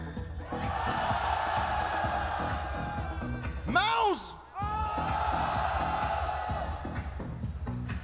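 A large arena crowd in Shanghai cheers, whoops and yells steadily at an esports grand final between FaZe and MOUZ, a loud continuous roar that briefly dips under an announcer's voice before surging back.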